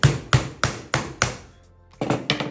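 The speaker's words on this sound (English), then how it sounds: "I like to pop a putty knife or chisel or something in there" A putty knife or chisel is knocked into the edge of an epoxy resin mold holding encased corks, giving five sharp, evenly spaced taps followed by a short pause and a couple of softer knocks, close and alone.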